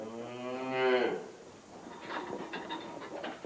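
Dairy cows on a Manitoba farm give one long, loud, rising moo up close, followed by quieter farmyard shuffling and rustle.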